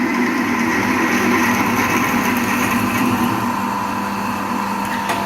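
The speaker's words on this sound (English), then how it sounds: "that's going to be no problem at all drilling there because it's got a flat face to start on" A drill bores a 10mm hole into the flat face of a steel angle, giving a steady, loud motor whine with a continuous grinding hum throughout.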